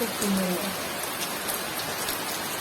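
Steady rain hiss with scattered patter, fairly close, with windblown spray coming in, and a faint voice briefly at the start.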